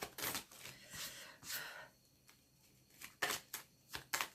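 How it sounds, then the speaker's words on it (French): Tarot cards laid one by one onto a spread to cover other cards, giving soft papery slaps and brushing rustles in short bursts, close and fairly quiet with a pause in the middle. "je vais essayer de recouvrir pas mal de cartes"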